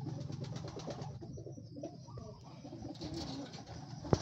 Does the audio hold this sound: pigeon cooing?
yes